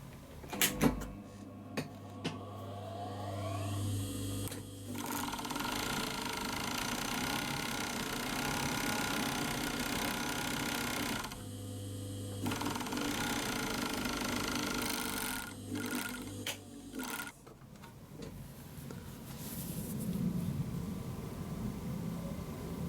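An overlock sewing machine stitches fabric with its differential gathering set to the highest position, running in a steady continuous whir that pauses briefly near the middle and resumes, loud and close with no talking.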